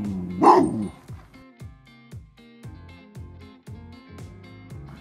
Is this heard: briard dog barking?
yes